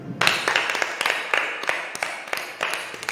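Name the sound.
congregation applauding loudly at a prayer meeting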